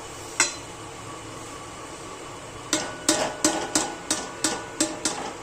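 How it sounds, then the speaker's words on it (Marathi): Methi ladoo mixture with dry fruits is stirred in a pan, giving a run of sharp, evenly spaced knocks and scrapes of a spoon against the vessel, close and fairly loud, with no talking. "आणि हे सगळं एकत्र हलवायचं हे असं."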